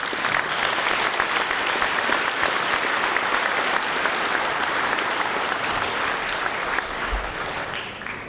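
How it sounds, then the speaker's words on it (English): A school audience at a Memorial Day event applauds in a sustained, dense round of clapping that holds steady throughout and thins slightly toward the end. "Can we please give him another round of applause?"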